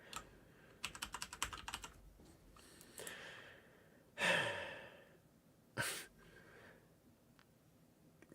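Keys clatter on a computer keyboard in a quick burst of typing near the start, followed by a couple of louder sighs or breaths in a quiet room.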